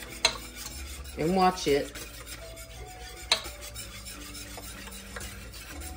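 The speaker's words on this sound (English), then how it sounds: "So we're gonna continue to stir this" A spoon stirs thick homemade chocolate pie filling with vanilla bean in a pot on a stove, scraping in a few close bursts with clinks against the pan, while someone speaks briefly.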